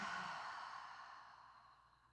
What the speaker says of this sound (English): Heavy exhale. Create sound and vibration with your breath in through your nose.